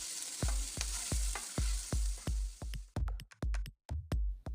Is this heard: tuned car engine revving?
no